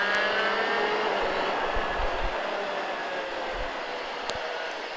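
A car accelerating on a race track, a steady loud broadband roar with rising engine harmonics held throughout, no talk.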